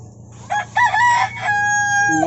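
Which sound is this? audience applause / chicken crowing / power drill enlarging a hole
chicken crowing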